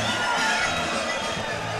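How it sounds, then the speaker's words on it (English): Spectators at a WBC Iron Boy boxing match roar and cheer in a dense, continuous wall of crowd noise with shouting voices, loud and sustained throughout. "this crowd is going crazy"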